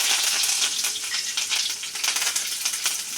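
Garlic and curry leaves frying in a pan for a watermelon peel poriyal, a dense continuous crackling sizzle, close and steady with small popping spikes, no talking.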